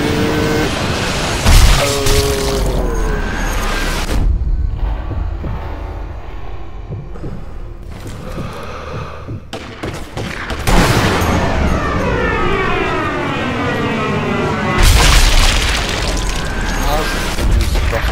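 Sniper rifle shot in the video game Sniper Elite V2, a sharp booming report among game sounds and cinematic effects, with someone talking over parts of the clip.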